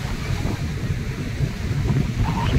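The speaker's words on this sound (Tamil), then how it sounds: "காற்று சவுண்டு ஓவராக இருக்குங்க" Strong wind roars and buffets steadily on a beach near Thanjavur, with a low rumbling sea surf underneath and no talking.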